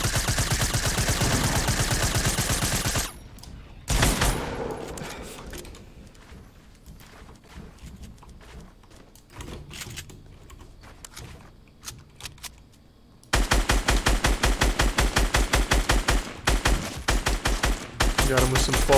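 Rapid bursts of automatic gunfire from the video game Fortnite, loud dense volleys at the start and again near the end with a quieter stretch of scattered shots and game sounds between.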